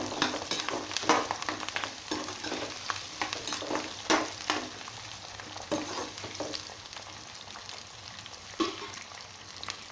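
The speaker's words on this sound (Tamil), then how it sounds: "வெங்காயம் நல்லா வதங்கட்டும்" Small onions fry in hot oil with garlic and curry leaves, giving a steady close sizzle with repeated scraping stirs of a spoon against the pan and no voices.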